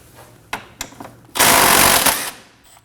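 A 12mm socket works a bolt loose on a 2011-2016 Kia Optima during rear ABS wheel speed sensor replacement: a few sharp clicks, then a loud dense rattling burst of about a second, close by, with no voices.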